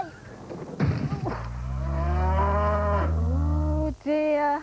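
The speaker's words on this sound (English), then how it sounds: "Oh dear, an unhappy cow and a dented car." An unhappy cow gives a long, loud, close moo, then a shorter second call after a brief pause, with some rustling noise just before, in a wartime setting.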